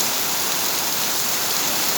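Steady rain falls across the whole stretch in Bangladesh during a thunderstorm season, a dense even hiss of drops on surfaces at constant loudness with no voices.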